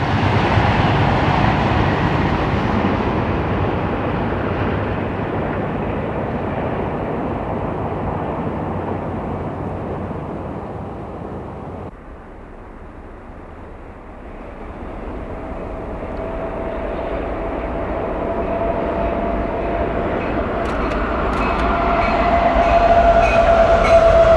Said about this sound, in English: Metroliner trains that do not stop in Trenton race across this bridge at high speed, headed east or west